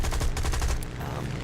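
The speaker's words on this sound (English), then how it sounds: "The Hispanos cannons do a little bit better now" Spitfire Hispano cannons fire in a video game, a dense rapid stream of heavy shots that is loud and continuous for over a second and eases slightly near the end.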